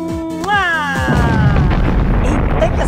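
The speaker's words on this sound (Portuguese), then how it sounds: "explosão tá demais" A sharp rising synthetic tone sweeps upward, then a loud rumbling blast bursts in and roars on, dense and sustained.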